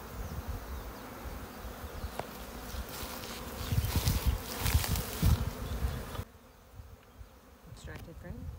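Hawaiian honey bees buzz around an open Apimaye hive, a dense droning hum rising and swelling in the middle, with a few close passes and faint voices in the background.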